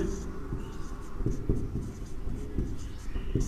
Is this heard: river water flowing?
no